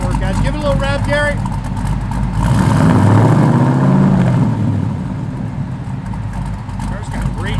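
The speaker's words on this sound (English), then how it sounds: "Give it a little rev, Gary" A 1956 Chevrolet Bel Air engine revs up, a mid-pitched car engine swelling to a loud peak around the middle and settling back toward idle, close by, with brief talk at the start.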